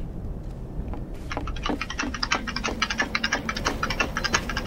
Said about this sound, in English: Why are you typing like that?